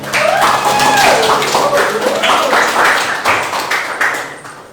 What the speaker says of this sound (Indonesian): beri tepuk tangan untuk Jeff dan juga Ben